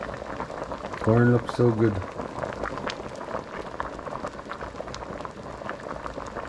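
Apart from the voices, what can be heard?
water boiling in pot with corn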